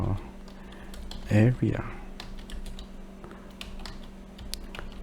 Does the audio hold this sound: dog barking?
no